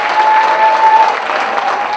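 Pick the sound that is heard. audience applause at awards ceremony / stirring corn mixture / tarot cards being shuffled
audience applause at awards ceremony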